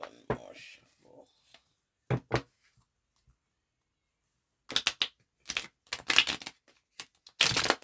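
Tarot cards shuffled by hand in short bursts of crisp riffling and tapping, close and dry, separated by quiet gaps, with a few brief spoken words at the start.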